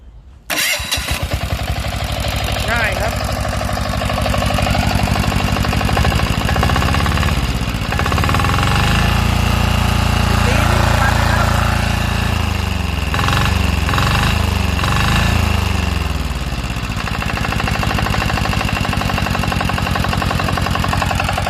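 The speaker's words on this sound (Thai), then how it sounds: "เดี๋ยวติดเครื่องครับ" A Yanmar L50 single-cylinder 5-horsepower diesel engine with a reduction shaft starts and settles into a loud, rapid, thumping chug, running steadily and close, with a few brief uneven beats partway through.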